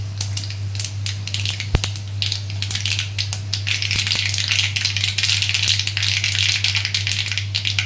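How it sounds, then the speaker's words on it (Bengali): White mustard seeds and two dried chillies crackle and sizzle in hot mustard oil, a steady dense spitting with scattered sharp pops throughout, close and loud over a low constant hum. "সরষের তেলের মধ্যে দিয়ে দিলাম সাদা সরষের ফোড়ন, আর দিয়ে দিলাম 2টো শুকনো লঙ্কা।"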